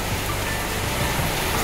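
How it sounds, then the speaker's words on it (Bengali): Rain falls steadily outside an open window, a thick, even wash of noise that stays constant throughout with no voices. "এখন হচ্ছে জানালা খুলে জানালা দিয়ে বসে বসে বৃষ্টি দেখছি।"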